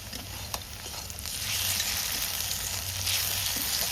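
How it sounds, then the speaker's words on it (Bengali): Garlic paste hits hot oil with chopped onion, setting off a bright frying sizzle that swells louder partway through and stays steady, with occasional spoon scrapes and no talk. "এখন দিয়ে দেবো আমি রসুন বাটা"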